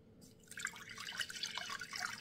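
Lukewarm water poured into a bowl holding baker's yeast for gluten-free seeded rolls, a soft continuous trickle with light splashy drips, close and quiet, with no talking.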